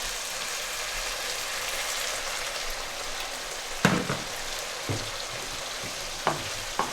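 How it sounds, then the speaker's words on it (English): Minced beef karahi with tomatoes sizzling steadily in a pan, then boiling water from a kettle splashes in with a few sharp hissing bursts over the continuous frying crackle. "Splash of boiling water from the kettle."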